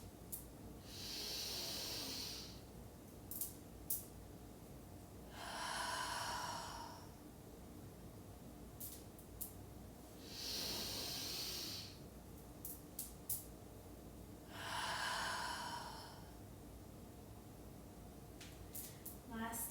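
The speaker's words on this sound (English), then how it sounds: "Deep breath in, shoulders down, long breath out." Slow, deep yoga breaths, four long airy inhale-exhale cycles spaced several seconds apart, close and fairly loud, with faint clicks between them.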